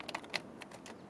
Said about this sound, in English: It has a Cherry brand keyboard.